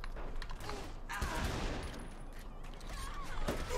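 Rapid bursts of weapon fire in Saints Row: The Third crackle in dense, overlapping volleys alongside game effects, moderately loud and continuous throughout.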